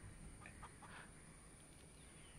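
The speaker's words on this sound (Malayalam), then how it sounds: "കോഴി ശബ്ദമല്ല കേൾക്കുന്നത്?" A rooster crows faintly in the distance, a couple of short high calls early on over a quiet background with a steady high electrical whine.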